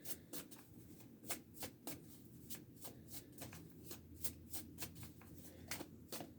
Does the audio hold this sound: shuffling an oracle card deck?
yes